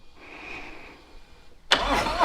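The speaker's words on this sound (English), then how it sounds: "And then we'll fire her up." A 2020 Harley-Davidson Road King Special motorcycle engine fires up abruptly after a quiet, hissy moment, bursting into a loud, close, rumbling start that holds steady to the end.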